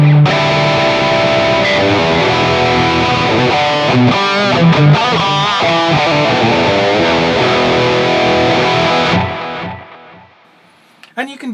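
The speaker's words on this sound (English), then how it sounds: "I've got a little bit of delay going on now as well" Electric guitar played through a Hotone Ampero II Stomp with a delay effect, loud, distorted sustained chords and repeating echoes filling the mix, then cutting out near the end with a brief tail.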